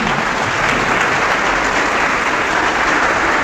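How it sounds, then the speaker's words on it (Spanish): A church congregation gives a short, dense burst of applause for a guest at a debate. The clapping is steady and loud throughout. "Un aplauso para el hermano."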